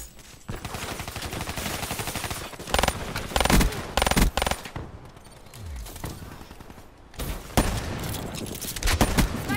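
Gunfire in Call of Duty: Black Ops III multiplayer, with bursts of automatic fire and scattered shots in loud clusters and a brief lull midway, all close and dense.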